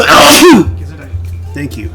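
One loud, sharp sneeze right up close, followed by quiet room tone and someone speaking briefly.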